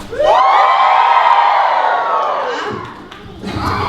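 An audience at a hula show screams and cheers for the dancers, a loud sustained roar of many voices that swells, fades slightly, then rises again.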